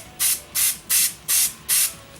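Aerosol spray can hissing in five even bursts of roughly a quarter second each, close and fairly loud, while a fingerboard is being built, with short quiet gaps between sprays.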